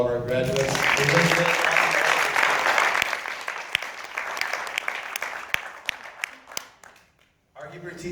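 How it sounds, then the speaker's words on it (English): Audience applause for graduates at a 5th grade graduation ceremony, a sustained crowd clapping that swells loudly at first and then thins out into scattered claps before stopping. "more round of applause for all of our graduates"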